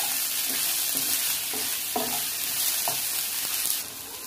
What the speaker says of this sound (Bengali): এবার এর মধ্যে টমেটো কেটে রাখা হয়েছিল সেই টমেটোটা দিয়ে দেওয়া হচ্ছে